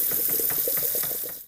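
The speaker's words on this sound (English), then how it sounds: "I'm just going to spray them with some cold water just so that they don't continue to cook and then get mushy." Cold tap water sprays over cooked noodles in a kitchen sink with a rushing, splattering hiss that runs steadily and then cuts off abruptly.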